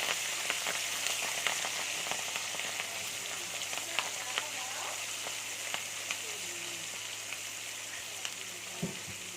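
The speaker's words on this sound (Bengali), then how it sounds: "পেঁয়াজটাকে লাল লাল করে ভাজা করে নেব।" Chopped onion and chili frying in hot mustard oil, a steady close crackling sizzle with scattered pops and a faint stir near the end, no talk over it.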